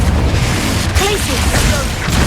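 Explosions from Bombarda and Confringo spells in the Hogwarts Legacy video game land as heavy, deep booms with crackling debris, loud and close, over a rumbling game soundscape.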